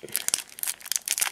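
A card booster pack wrapper crinkles and tears open up close in a quick burst of papery crackles lasting about a second.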